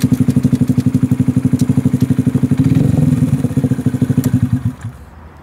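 A Honda Grom motorcycle engine runs hard at speed, a loud, steady pulsing buzz that rises slightly then drops off near the end as the throttle closes.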